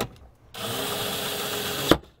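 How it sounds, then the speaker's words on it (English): A power tool drives a T25 screw into interior plastic trim of a Ford C-Max, one steady whirring run of about a second and a half after a short quiet start, ending in a sharp click and a sudden stop. "Now we can install our 4"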